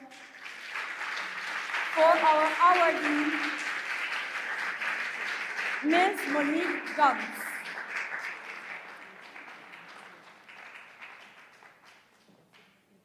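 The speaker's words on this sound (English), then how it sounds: "Let us give a warm applause" At a women's awards ceremony an audience applauds an award winner, a moderate wash of clapping that carries on beneath a speaker's amplified voice and fades gradually toward the end.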